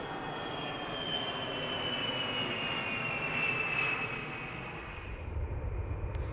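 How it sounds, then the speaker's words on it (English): A fixed-wing airplane passes overhead near an Air Force base, a steady loud engine roar that swells toward the middle and slowly fades, with no talking. "let me let this plane go overhead here"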